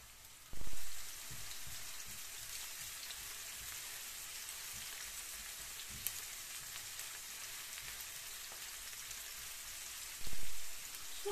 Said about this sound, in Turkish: Doğramış olduğumuz soğanları tavamıza alalım. Ve soğanlarımız yumuşayana kadar biraz kavuralım.